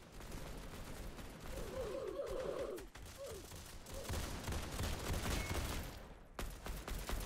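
Pump-action shotgun fire in a Roblox combat game, rapid distant-sounding blasts and crackling gunfire over a dense, noisy game soundscape, with a sudden cut near the end.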